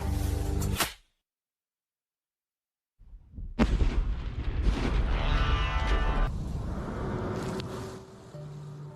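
A test bomb detonated on a range: after a moment of silence a sudden heavy blast bursts in, followed by several seconds of rumbling roar and scattering debris that slowly fades.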